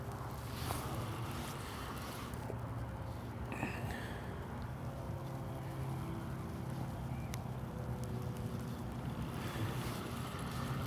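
Strong wind buffets the microphone in a continuous low rumbling roar beside a carp fishing venue during long-range method feeder casting, with no talk.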